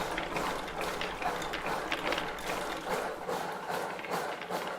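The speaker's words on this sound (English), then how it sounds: "He starts cranking, and then the machines start moving." Hand-cranked mechanical machines clatter and tick in a steady ratcheting rhythm of gears and linkages, fairly faint but continuous throughout.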